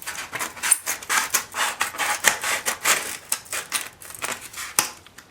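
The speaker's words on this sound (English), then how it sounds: "the other thing I'm also going to do is to cut off this flap right here" Cardboard egg-carton flap being cut off with a series of crisp, close snipping and crunching strokes in quick irregular rhythm, no talk.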